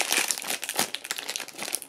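A blind bag foil packet is torn open by hand, giving a close, bright crinkling and crackling rustle that runs continuously with small bursts for about two seconds.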